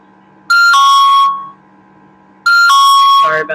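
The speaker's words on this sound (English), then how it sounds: "Sorry about that alarm." An electronic alarm goes off in two loud bursts of a shrill, ringing tone, each lasting about a second, with a brief quiet gap between them.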